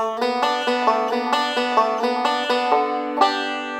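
Banjo picking a steady, bright roll of quick plucked notes, evenly paced with a few accented strums, played alone and close.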